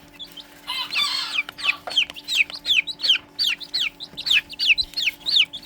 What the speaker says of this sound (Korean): 앙컷은 소리가 작죠? 소리가 확실히 작아요.